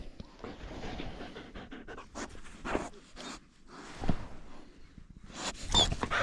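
A young puppy panting close by in rapid, breathy bursts that rise and fall, with a few soft whimpering and rustling touches and no talking.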